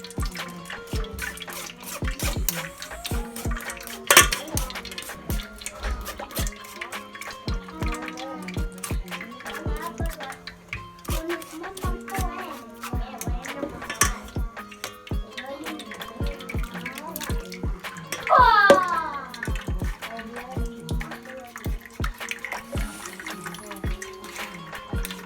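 Strained tamarind juice drips and trickles steadily through a sieve into a bowl, a close run of small splashes and water patter lasting the whole stretch, with occasional louder spills and a brief squeaky clatter near the end.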